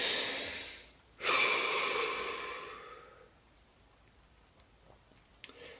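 A deep breath drawn in during a seated relaxation exercise, a long airy inhale followed by a slow, fading exhale, close and quiet, then near silence with a faint tick at the end.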